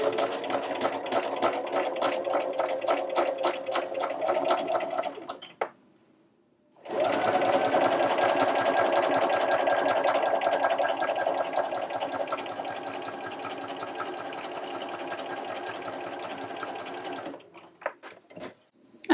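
A sewing machine runs steadily, stitching with an edgestitch foot to catch a pressed binding underneath for a covered bound edge, with a brief pause near the middle before the motor resumes, then a few short stops at the end.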